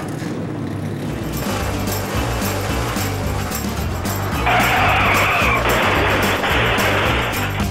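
Race cars roar past with tires squealing and skidding in a loud, continuous commercial sound effect, the engine drone layered under sharp screeching that rises toward the end.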